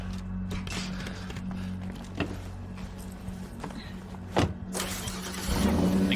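A car in State of Decay 2 idling and moving with a low engine rumble, a few sharp clunks like doors or impacts, and a louder surge of noise near the end.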